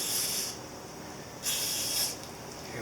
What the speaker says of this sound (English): We're also going to spray some lube on these. They got a little bit of rust on them,